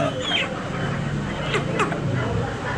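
Chickens clucking with a rooster-like call among poultry at a market in Rasht, Iran, amid a busy background of murmuring voices and street noise.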